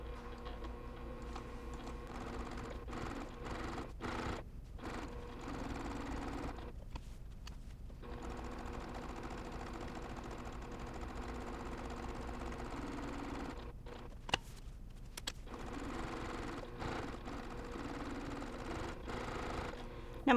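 A sewing machine stitches steadily around the edge of a cross stitch pillow, a continuous mechanical hum with brief pauses as the fabric pivots at corners, heard up close without talking.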